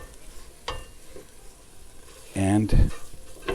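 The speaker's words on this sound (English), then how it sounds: "that sizzling is beginning to create more brown bits" Onions sizzle and brown in a pot with a soft, continuous frying hiss under a person's speech, while the food is stirred now and then.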